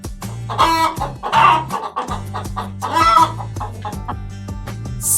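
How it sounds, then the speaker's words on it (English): Chickens cluck in loud bursts with a rooster-like crow among them, several calls in quick succession over a rhythmic musical backing in a children's farm-animal counting song. "Six chickens."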